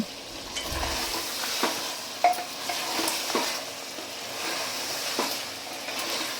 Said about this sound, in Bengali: এবার আমি এর মধ্যে দিয়ে দেব ভেজে রাখা আলুগুলো আবারও আমি খুব ভালো করে নেড়ে দেব